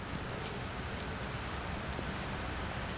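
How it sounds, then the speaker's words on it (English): Heavy rain pouring down during the 2011 IndyCar race in Brazil, a steady, dense hiss that fills the whole stretch at low volume, with no voices over it. "The rain is coming down in buckets."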